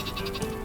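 A sheep in the Worms W.M.D. video game bleats in a short, rapid burst, a pulsing, wavering cry over dense game background sound.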